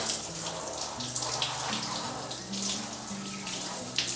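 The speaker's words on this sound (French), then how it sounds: "là par contre je vais lui rincer la tête" Running water from a tap pours continuously as a dog's head is rinsed during a bath, a steady close splashing rush with slight variations in flow.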